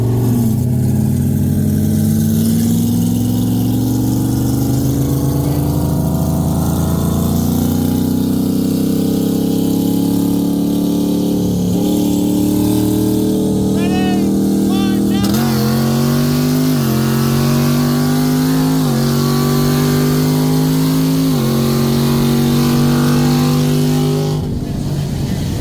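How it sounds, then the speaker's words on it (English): A 2022 Camaro with an LT1 V8 running E85, with upgraded heads and cam, pulls hard in a roll race against a Supra, its engine note climbing steadily through the gears. The sound is loud and continuous, heard through an open window with wind noise. "It sounded so good, that Camaro."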